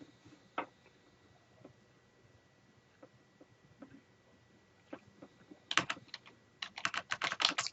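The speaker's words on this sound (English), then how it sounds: "And then I'll type in at the top in the box." Typing on a computer keyboard: a few scattered faint key clicks, followed by a quicker, denser run of keystrokes at the end, close and quiet.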